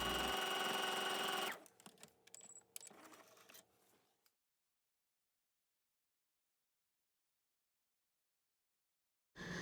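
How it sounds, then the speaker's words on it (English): A sewing machine runs in a fast, loud burst of stitching, then slows into a few short stops and starts before falling silent. "take it to your sewing machine and give it an edge stitch"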